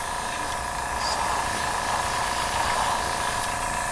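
Aerosol spray paint hissing steadily from a can onto MDF tabletop terrain, a continuous close, even broadband spray running without pause for several seconds.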